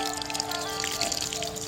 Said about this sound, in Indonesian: kita siram dengan air yang cukup ya